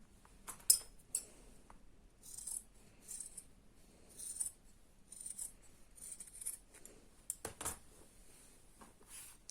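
Scissors cut fabric for a sewn beret: a series of crisp, scattered snips and blade clicks with short pauses between them, close but soft, with no speech.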